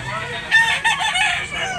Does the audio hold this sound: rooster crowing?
yes